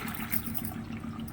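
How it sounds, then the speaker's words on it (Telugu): Water from boiled rajma and chole pours through a strainer in a steady, close splashing gush that lasts only a moment. "వడగట్టేసుకుందాం ఇప్పుడు మనం. చూడండి ఇలాంటి జల్లిగా తీసుకొని"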